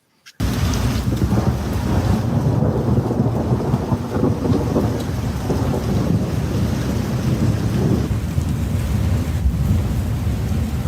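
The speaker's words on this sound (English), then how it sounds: "It's raining. It's thundering. You can hear it." Heavy rain pours steadily while deep thunder rumbles continuously underneath, loud and enveloping, with gusty wind buffeting the microphone.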